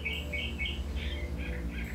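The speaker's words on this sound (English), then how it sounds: "And I have birds in my chimney, so this is coming from the fireplace." Birds in a chimney chirp repeatedly from the fireplace, a run of short high tweets in quick bursts, somewhat muffled over a low steady hum, with no one talking.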